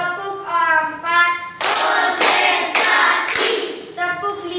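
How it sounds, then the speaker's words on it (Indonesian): Bursts of hand clapping in a steady rhythm in a classroom, several loud claps in groups, alternating with students chanting a counting clap routine in unison. "Tepuk 1, tepuk 2, tepuk 3, semangat, tepuk 4"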